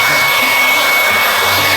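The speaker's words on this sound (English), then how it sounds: "I know it's a stick vacuum, I know." Ryobi 18V ONE stick vacuum running close up, a loud, steady whirring hiss with a high motor whine, unbroken throughout.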